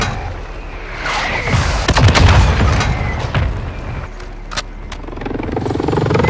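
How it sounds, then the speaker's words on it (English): Friendly mortar rounds land in Call of Duty Modern Warfare 2, a run of heavy booms and sharp blasts with rumbling tails, loud and mid-distance, a few separate impacts spread over several seconds. "Friendly mortar strike inbound."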